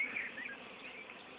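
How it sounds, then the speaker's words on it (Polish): A dense, steady hum of many swarm honeybees buzzing close by at a new box hive, continuous and unbroken throughout. "No niestety, rojowe pszczoły, bo od sąsiada się wyroiły."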